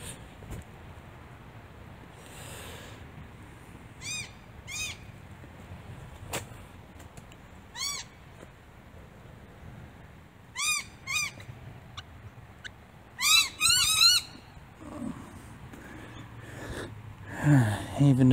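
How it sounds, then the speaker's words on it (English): Birds chirp outdoors in short, scattered bursts of bright, repeated calls, growing busier toward the end, over a low, steady background rumble with occasional soft knocks. "Even the birdies are chirping."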